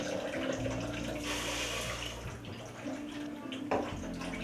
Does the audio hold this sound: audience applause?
no